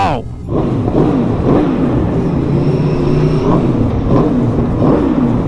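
A 2024 Aprilia RSV4 1100 Limited Edition motorcycle with its exhaust baffle removed revs hard nearby, a loud raspy engine roar rising and falling in repeated blips after a brief dip.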